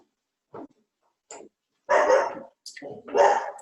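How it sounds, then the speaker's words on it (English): A dog barking indoors during a home yoga session, several short barks building to two louder bursts, close by and alone in otherwise quiet surroundings. "It's my dog."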